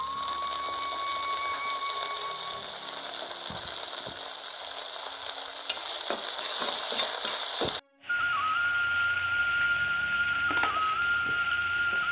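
Continuous sizzling of rice and onion with shewali (night jasmine) flowers frying in a wok, with occasional scraping stirs and a faint whistling tone, briefly cutting out before resuming.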